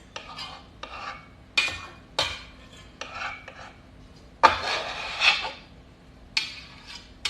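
Mashed roasted garlic from six cloves is scraped into a mixing bowl with a utensil, making a series of close, distinct scraping strokes against the bowl in irregular rhythm with no talking.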